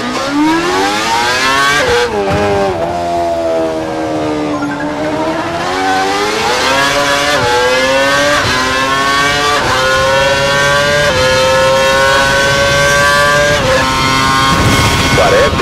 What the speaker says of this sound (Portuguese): precisamos que você acelere em direção a uma curva fechada, entre no ponto certo, atinja o centro e acelere a 297 km por hora na saída dela